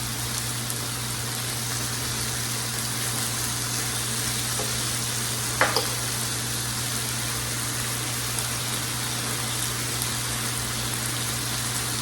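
Chicken fajita strips frying in a pan, a constant soft sizzle like steady rain with a low hum underneath and one brief clink midway, no voices.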